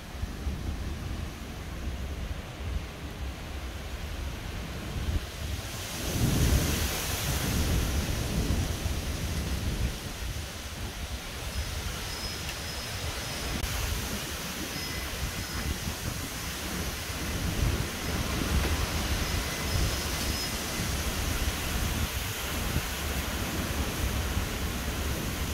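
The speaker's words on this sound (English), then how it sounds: "Oh my god, it's about to storm." A June thunderstorm rumbles over a military air base, with a steady wash of rain and wind throughout and a louder roll of thunder building partway through.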